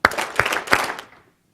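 An audience claps together in three sharp, unified beats, evenly spaced, with a short scattered tail of claps that fades into silence, loud and close, with no talking.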